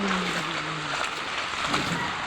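Floodwater standing waist-deep inside a flooded house's living room, a steady broad wash of water noise with faint sloshing, fairly loud and continuous throughout.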